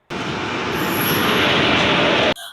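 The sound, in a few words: Chennai Central to Tirupati Garudadri Express train arriving at station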